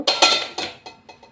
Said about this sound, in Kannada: ಮೊದಲು ಸ್ಟವ್ ಆನ್ ಮಾಡಿ ಬಾಣಲೆ ಇಟ್ಟು